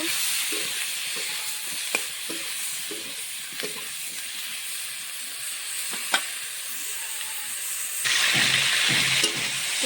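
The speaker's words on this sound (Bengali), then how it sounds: "কপিটা ভালো করে ভেজে নেব" Cauliflower frying in a pan with salt and turmeric, a soft continuous hiss and sizzle with faint stirring taps, swelling louder near the end.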